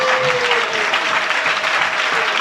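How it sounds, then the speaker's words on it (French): A church congregation claps loudly and steadily in dense sustained applause, close and filling the space, with a faint voice rising briefly beneath it. "Est-ce qu'on peut acclamer le Seigneur Jésus?"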